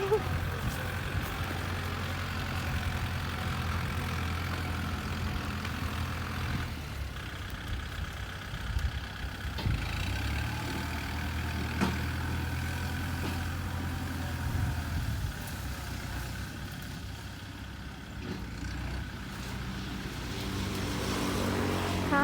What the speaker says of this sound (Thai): รถไถมาแล้ว